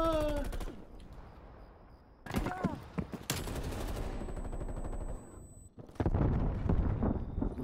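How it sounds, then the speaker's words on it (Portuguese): Grenade blast and bursts of gunfire in the video game Call of Duty Cold War, loud layered gunfight noise with a sharp crack and booming impacts, game sound effects throughout with a voice at the start. "Um segundo depois o Pedro morreu na explosão"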